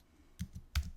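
A handful of quick keystrokes on a computer keyboard, two small clusters of soft clicks in a quiet room.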